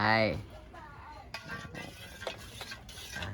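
Eggs frying in a pan while being stirred, with a brief voice at the start followed by soft sizzling and light scraping and clinking of a utensil against the pan.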